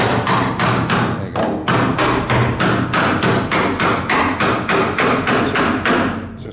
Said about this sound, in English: if I put this screwdriver in, you might just see it cracking.